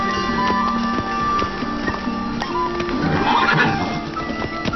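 Roach, a horse in the video game The Witcher 3, neighs loudly and whinnies over clip-clopping hooves and a soft game soundscape, no talk.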